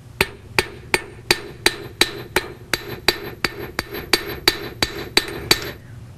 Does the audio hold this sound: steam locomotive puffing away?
no